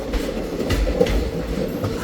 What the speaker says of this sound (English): I am moving from a train going from Bijapur to Bangalore.